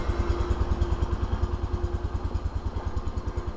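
A 1971 John Deere 140 H3 lawn tractor engine runs at a steady idle, a close, even low chugging pulse that holds without a break and with no talk.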